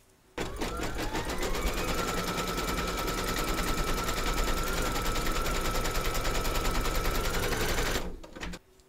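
An embroidery sewing machine stitches a round on fabric held in a hoop, a fast continuous rattling whir for about eight seconds with a rising motor whine at the start, stopping abruptly, no talking.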